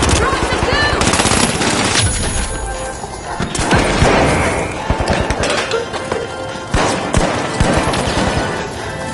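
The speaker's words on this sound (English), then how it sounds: "Throwing goo grenade!" Chaotic video game shooter battle sound, with a goo grenade thrown amid dense bursts of rapid gunfire, crashes and booms filling the whole stretch, loud and continuous, with voices partly audible under the din.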